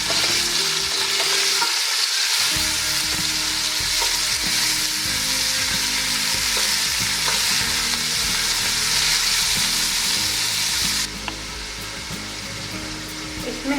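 Chicken frying in a pan for spaghetti, a loud steady sizzle with stirring and scraping throughout, close up, with no talking.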